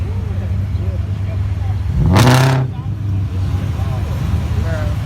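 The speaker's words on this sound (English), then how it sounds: "Look at the Aston Martin, bro." An Aston Martin sweeps past at a car meet with a loud, brief engine roar peaking around the middle, heard over steady rumbling traffic and crowd noise nearby.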